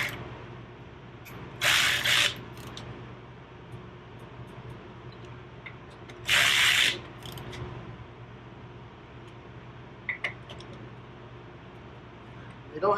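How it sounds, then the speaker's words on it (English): Indian Roadmaster wheel bolts being tightened with a 6 mm Allen key: two loud bursts of close mechanical ratcheting a few seconds apart, with brief faint clicks later against a quiet workshop hum. "Take our 6 millimeter Allen. We're going to tighten the outside first, the inside, and then retighten the outside"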